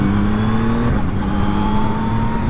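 A Yamaha MT-09 SP motorcycle engine pulls hard and loud under acceleration, its steady drone stepping down in pitch just before the one-second mark as the quick shifter snaps through an upshift without the throttle closing.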